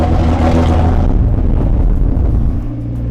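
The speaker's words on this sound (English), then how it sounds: "We gotta do a flyby to show Keegan." A car running on straight moonshine rumbles loudly past on a flyby, the engine roar swelling close and then dropping away as it moves off.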